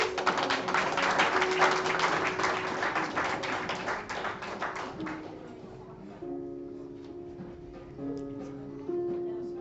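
A church congregation claps together, dense rapid clapping loud at first then thinning and fading out, with sustained keyboard-like tones continuing beneath as the applause dies away.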